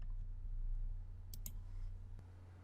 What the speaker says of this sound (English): I'm clicking on exit button.